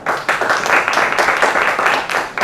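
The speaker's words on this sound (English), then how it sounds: "please join me in welcoming with a round of applause Mr. Nemil Shah" Audience applause welcoming a speaker at a film festival master class, a dense, steady wash of many hands clapping at close range, swelling slightly in bursts with no voices over it.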